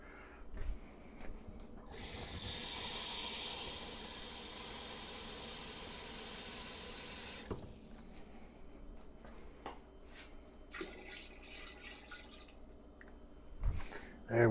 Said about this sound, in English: So we're going to add just a little bit of water.